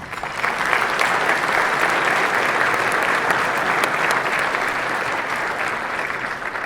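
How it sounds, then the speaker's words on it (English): A veterans dinner audience claps for its sponsors in a dense, even round of applause that swells quickly and holds steady before easing slightly toward the end. "Let's give a round of applause for all of our sponsors"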